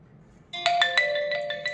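An SMS reply arrives from a Phoenix PDAS-04 shutter alarm system, giving a loud, close electronic ringtone of repeated bright tones that starts abruptly after near silence and carries on steadily.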